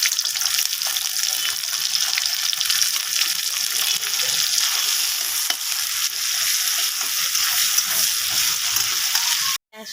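Onions sizzle and crackle in hot oil in a pan while potato and soybean curry is being cooked, a loud, close, continuous frying hiss that cuts off abruptly at the end.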